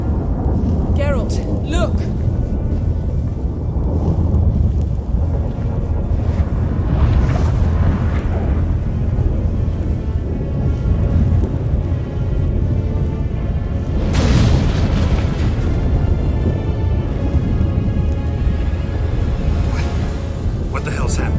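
Thunder rolls and booms through a storm in The Witcher 3, with deep rumbling carrying under continuous wind-like noise and several louder cracks breaking through, while a voice calls out briefly over it.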